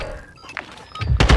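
A door in a video game opens with a short thunk followed by a heavier sliding, thudding rumble toward the end, fairly loud and close, with no voices over it.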